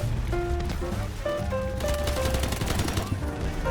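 Machine gun bursts in the video game Delta Force, rapid rattling fire mixed with game sound effects and music, with a voice speaking underneath.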